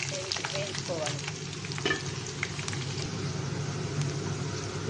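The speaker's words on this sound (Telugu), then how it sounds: "ఇలా వేయించుకోవాలి కలర్ వచ్చినంత వరకు." Green chillies and onions fry in a pan with a steady, close sizzle, while occasional scraping and stirring clicks of a utensil rise over the hiss.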